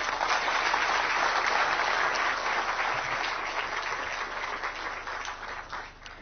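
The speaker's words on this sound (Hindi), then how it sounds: "हम आपका भरपूर तालियों के साथ अभिनंदन करते हैं।" Audience applause after an address at a Shikshak Parv 2022 teachers' event, a steady dense wash of clapping throughout that fades slightly toward the end.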